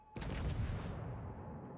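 Warship guns fire in a naval battle video game, a broad booming salvo that opens sharply and then rolls and rumbles loudly before slowly fading, with no talk over it.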